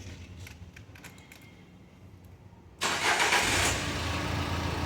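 A Renault Duster engine cranks and catches at about the three-second mark, then settles into a loud, steady idle after a major service and suspension work, following a quieter stretch of faint clicks.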